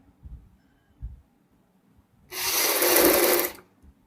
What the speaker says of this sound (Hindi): यहाँ पे हम एक पैर की सिलाई लगाएंगे एक साइड से